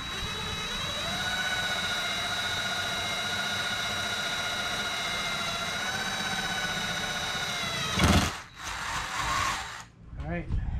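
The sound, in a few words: drilling with 3/16 drill bit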